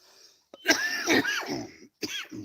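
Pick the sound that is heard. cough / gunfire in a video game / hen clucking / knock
cough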